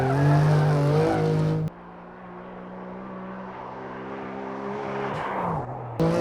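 A BMW M2 sports car on a race track, its engine note loud and close throughout, rising and falling with gear changes over steady road and tire roar.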